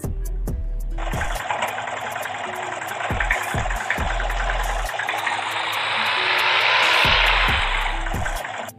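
An old tractor engine in Farming Simulator 20 idles with a steady, rough, rattling drone that swells slightly toward the end, heard alone with no talking.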